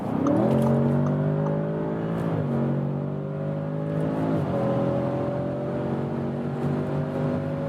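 A large performance sedan, one of a Mercedes S63 AMG, BMW 760i, Audi S8, RS7 or Porsche Panamera, accelerates hard at high speed on an unrestricted road, its engine note climbing steadily and dropping briefly at two downshifts.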